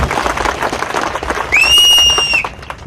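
A crowd at an outdoor government land-title distribution event in Kolluru, Andhra Pradesh claps steadily and loudly, with a shrill whistle cutting through the applause for about a second near the end.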